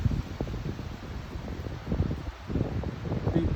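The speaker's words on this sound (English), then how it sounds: "can you hear the wind? Listen to the wind and look at the trees." Wind gusts through trees outdoors, producing a rushing, buffeting rustle that swells and fades irregularly, close to the microphone and fairly faint overall, with no one speaking.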